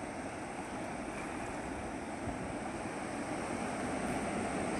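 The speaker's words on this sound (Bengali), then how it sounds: "দেখো বন্ধুরা জলের কত লেহের" Continuous rushing water and wave wash on the Ajay river on a sunny afternoon, a steady broadband roar with no breaks, moderately close and alone without voices.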